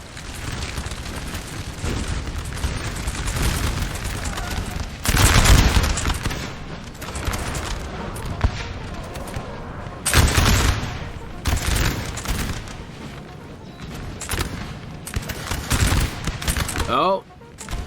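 Musket volleys ring out during a large Napoleon Total War battle, with heavy crackling fusillades bursting loudly every few seconds over a constant din of battlefield noise and shouting voices.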